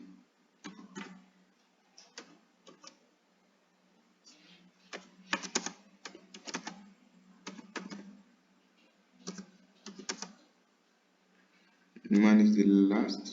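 Irregular bursts of light clicky taps, like fingers on a computer keyboard, come in short clusters with pauses between them and sit quiet and close, ending in a louder sustained noise.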